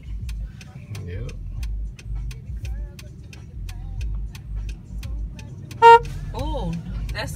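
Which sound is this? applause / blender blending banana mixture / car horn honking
car horn honking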